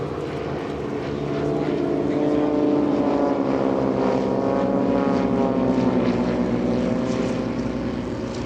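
Propeller-driven warbird aircraft passing in formation at the EAA AirVenture airshow, a loud, steady, full-bodied engine and propeller drone that swells gently across the whole stretch with no voices over it.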